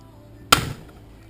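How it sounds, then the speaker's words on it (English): A single sharp close clack as an aluminum pop rivet is set while mounting a radiator, standing alone against a quiet background. "got one more pop rivet to put in here"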